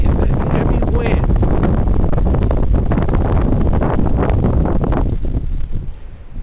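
Heavy wind buffets the microphone on the Spartan trail, a loud, constant roaring rush that fills the whole stretch and eases slightly near the end.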